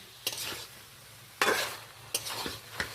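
Grated coconut is stirred into a sizzling prawn and snake gourd curry, with three or four bursts of spoon scraping against the pan over a steady low frying hiss.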